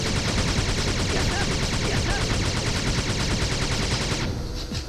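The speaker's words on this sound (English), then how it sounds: "the Z key is a continuous rapid fire" Continuous rapid fire in a retro shooter game: a loud, unbroken stream of fast repeated shots that runs steadily for several seconds before easing off at the end.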